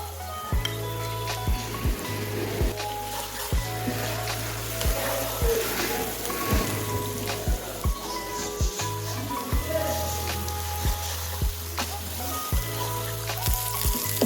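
Chopped garlic, ginger and red chili fry in oil for Punjabi sarson ka saag, a steady close sizzle with repeated clinks of a stirring spoon against the pan.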